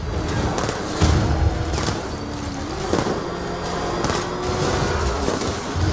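Gunfire in the video game Batman Arkham Knight: dense, repeated bursts of shots and impacts over a steady layer of game noise, loud and continuous throughout.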